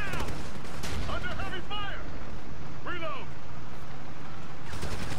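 Gunfire crackles through the video game Ghost Recon: Future Soldier, with dense, rapid shots and sharp bursts near the start and end, running under steady talk from players.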